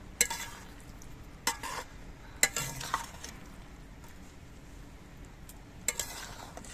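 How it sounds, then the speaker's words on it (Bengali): Amudi fish chorchori with spring onions simmers quietly in a pan while a utensil stirs it, giving sharp intermittent clinks and scrapes over a low bubbling hiss. "এবার সব কিছু দিয়ে আস্তে আস্তে নেড়ে মিশিয়ে দিয়ে দু মিনিটের মতো ফুটিয়ে নিতে হবে"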